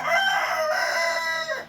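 A backyard rooster crows close and loud, one long drawn-out call from a small chicken flock, heard alone without any talk.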